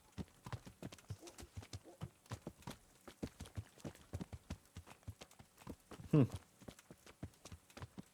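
A horse's hooves clip-clop in the video game Kingdom Come Deliverance, a steady walking rhythm of crisp, close hoofbeats. A short hum-like vocal sound rises briefly near the end.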